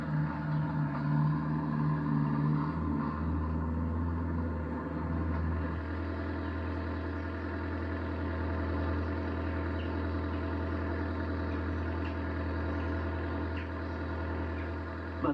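A Land Rover towing a pole on a two-wheel bogey runs with a steady low engine drone, a constant near rumble that shifts slightly in tone early on and then holds even, with no voices.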